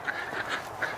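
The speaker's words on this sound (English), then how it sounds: "some of the ducks are out. Of course, Muscovies." Muscovy ducks call outdoors on a frigid winter day around -11 with a harsh wind, giving a few honking calls at close range over a steady windy background.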